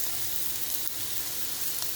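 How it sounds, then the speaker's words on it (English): Meatloaf sizzles steadily as it chars in a hot pan, a dense, continuous frying hiss close by with no voices. "I'm going to char that up pretty nice and put some barbecue sauce on the meatloaf"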